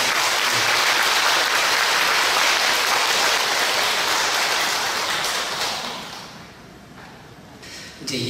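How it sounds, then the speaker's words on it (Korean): Warm, sustained applause from a congregation at a Korean Won Buddhist temple Sunday service, honoring the speakers: a steady dense wash of clapping that swells, fades toward the end, then picks up briefly again. "뜨거운 격려의 박수 한번 보내주십시오."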